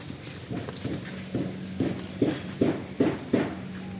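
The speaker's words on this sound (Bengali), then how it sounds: "গরু আমি খুলে হাঁটায় দেখাচ্ছি" A cow walks on the ground, its hooves landing in a steady rhythm of about eight clear, fairly close steps over a continuous background hum.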